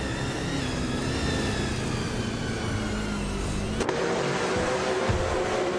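Steady engine drone of a 2013 Holden Commodore VF racing car in a video game, a continuous mid-level hum with a sharp pitch shift partway through, no talk.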